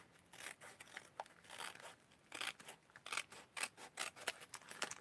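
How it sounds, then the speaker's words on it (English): Scissors trim scraps of paper for a handmade card, a quiet run of close, crisp snips and crunches coming in an uneven rhythm. "Actually, what I could do is trim it back so that"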